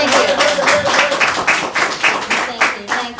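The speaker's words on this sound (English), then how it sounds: "a round of applause" Applause at an evening community meeting, broadband clapping from a small audience for several seconds, loud and steady, with voices speaking over it.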